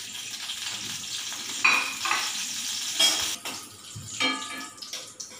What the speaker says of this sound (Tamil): நல்லா முந்திரி திராட்சை நல்லா வறுத்துட்டேன்